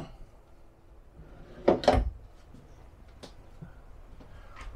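A drawer in an RV slides and bumps shut once, a short close wooden knock with a quiet clatter, set against a hushed interior with faint fainter knocks afterward.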